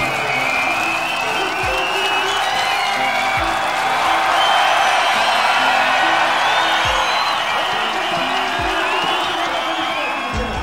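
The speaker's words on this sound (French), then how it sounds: "Sous vos applaudissements" A crowd at a Labour Day ceremony at Gabon's Public Treasury claps loudly and steadily for the director general, with dense sustained applause, scattered whoops and cheers, and a few low thumps underneath.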